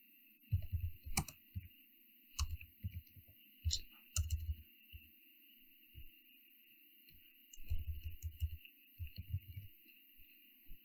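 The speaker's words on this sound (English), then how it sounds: "let me just type something here" Typing on a computer keyboard comes as bursts of quick, close, crisp key clicks separated by short pauses, over a quiet steady electrical hum, with no talk.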